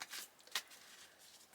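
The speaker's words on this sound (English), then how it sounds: "So I'm going to shuffle the cards" Quick, faint riffling of a deck of tarot cards being shuffled for a pick-a-card reading, two soft papery bursts close by in a quiet room.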